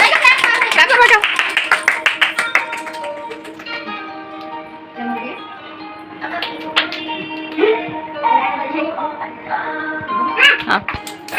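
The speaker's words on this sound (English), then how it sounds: "Clap for Baga." Family members clap for a relative at a home Mother's Day celebration, a run of quick handclaps up close, then scattered claps mixed with cheerful voices and chatter.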